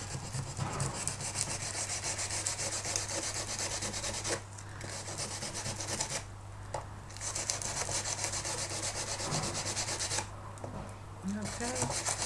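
Pencils being sanded to strip their shiny lacquer, a loud, close, continuous rubbing and rasping in quick strokes, with two short pauses along the way.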